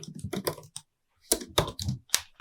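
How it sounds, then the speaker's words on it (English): Typing on the keyboard of an M1 14-inch MacBook Pro, close and crisp, with bursts of soft clicky keystrokes broken by a brief silent pause before another quick flurry. "The keyboard feels a bit different compared to the previous Macs. It has a distinct sound now and it's an absolute joy to type on."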